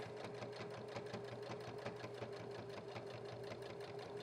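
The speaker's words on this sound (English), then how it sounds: "Your sewing machine might talk to you" A sewing machine stitches steadily through several thick layers of fabric while sewing a shield for a reusable feminine hygiene product, giving a fast, even mechanical chatter with a low motor hum underneath, close and continuous throughout.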